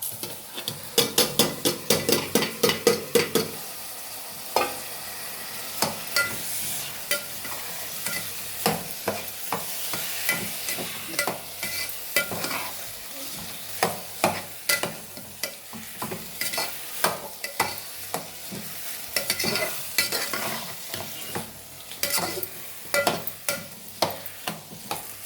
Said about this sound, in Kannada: ನಾನು ಮೊದಲಿಗೆ ಒಂದು 3-4 ಗ್ಲಾಸಷ್ಟು ರೈಸ್ ನೆನೆಸಿಟ್ಕೊಂಡಿದ್ದೆ, ಅದನ್ನು ಹಾಕಿಬಿಡೋಣ ಇವಾಗ